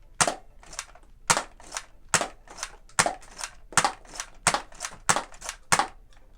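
A Nerf Elite 2.0 Wild Edition Trailblazer RD-8 revolver-style foam blaster fired rapidly with two hands, giving about eleven sharp, evenly spaced snapping shots with a faint mechanical rattle between them, close and clear.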